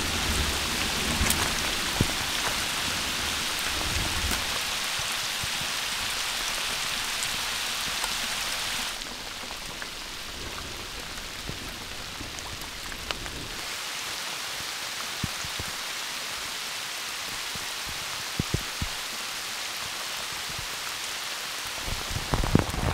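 Rain falls steadily in the rugged Canadian wilderness, a dense hiss of drops with patters on nearby surfaces, shifting in intensity as the downpour continues.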